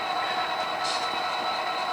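A model train runs on a layout during operations with tank cars, giving a steady, fairly quiet rolling whir with a faint higher hiss, continuous throughout with no voices.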